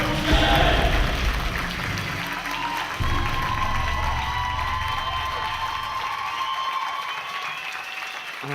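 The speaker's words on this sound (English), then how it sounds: "Round of applause." A studio audience at a judged performance competition breaks into sustained applause and cheering as the final three contestants are called up, loud and dense throughout, with whoops and a brief swell partway before it gradually thins.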